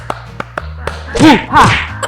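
A few quick, sharp hand claps in a group clapping game during a speaking event, close and distinct against room hum, giving way to a speaking voice.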